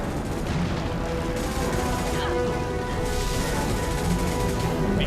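Dense gunfire from the video game Mass Effect 2 rattles on without a break, a steady wash of shots and booms from a fight against swarms of bugs.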